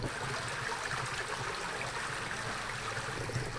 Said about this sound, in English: How cool is having that creek right outside back?